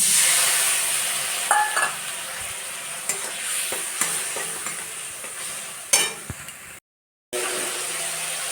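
Ground spice paste of cumin, coriander, chilli, turmeric and Kashmiri chilli powders hits frying onion, ginger and garlic for ghugni, giving a steady close sizzle with stirring scrapes and a brief cut-out near the end.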